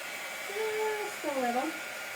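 A hair dryer blows a steady, airy hiss over napkin decoupage on a glass jar, holding an even level while a voice speaks briefly above it.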